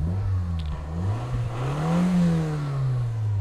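A 2018 Toyota sedan's engine hums steadily at low pitch with a mild revving swell partway through, fairly quiet and close, alone with no talk.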